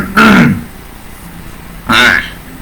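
Two short throat-clearing coughs from a man, about two seconds apart, close and fairly loud against a quiet room.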